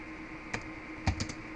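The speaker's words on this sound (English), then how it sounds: "I'm also going to go ahead and type in a question." A few sparse taps on a computer keyboard, close and fairly quiet over a steady background hum, as a question is typed in.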